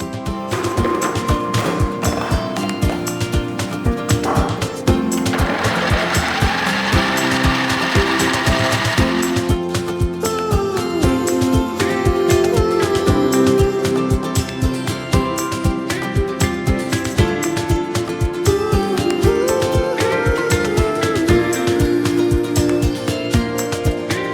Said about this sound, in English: we're going to grate the potatoes, and for that I'm going to use this fine grating attachment for my mixer